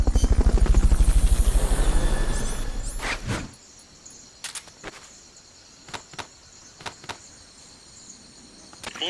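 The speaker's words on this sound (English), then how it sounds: "Fulton recovery helicopter is complete." Fulton recovery helicopter in Metal Gear Solid: Peace Walker, a loud whirring rotor roar that fades out after about three seconds, followed by sparse sharp clicks and ticks over a quiet background.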